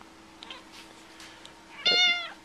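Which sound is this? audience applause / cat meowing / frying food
cat meowing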